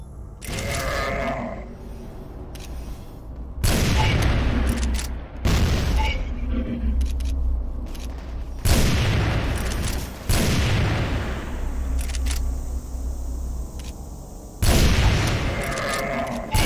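Bomb blasts in the video game Crossfire after a countdown: a series of loud, sharp booms at irregular intervals, each with a rumbling tail, between quieter stretches of game ambience.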